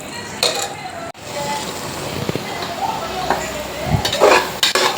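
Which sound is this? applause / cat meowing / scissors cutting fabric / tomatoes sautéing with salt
tomatoes sautéing with salt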